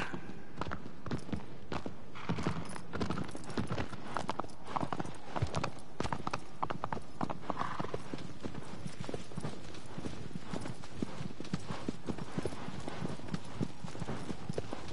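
Horse hooves clip-clop steadily across the ground in Shadow of the Colossus, a regular walking rhythm close by, heard alone over a faint game backdrop.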